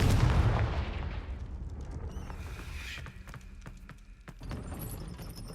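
Confringo explosive spell cast in the Hogwarts Legacy video game, with a loud rumbling blast at the start that fades into crackling and scattered sharp impacts, then a second burst of activity near the end.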